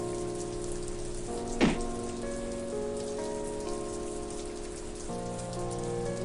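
Heavy downpour in the Japanese horror game Tales of the Black Forest, a dense steady rain hiss under sustained musical tones, with one brief sweeping swell partway through.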